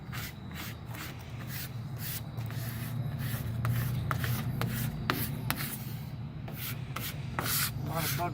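A squeegee works vinyl lettering onto a storefront window outdoors, making a continuous dry rubbing and scraping texture with short sharp squeaks and ticks scattered across the strokes, steady and close.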